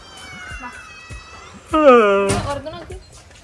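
A pregnant cat gives one clear, drawn-out meow close by, rising and falling over about half a second, with quieter sounds and a voice around it.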